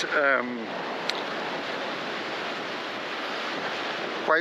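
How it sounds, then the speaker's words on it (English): On Ballywalter Beach, strong wind and surf make a steady, loud, broadband roar that fills the whole moment, with brief bits of a voice at the start and end. "despite the quite horrendous wind, it is actually quite"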